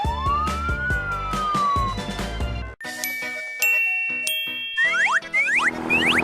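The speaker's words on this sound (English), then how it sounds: "Black police car." Cartoon police car siren in a children's color-learning show, a loud wailing sweep followed by bright electronic beeps, dings and springy boing effects, with no voices.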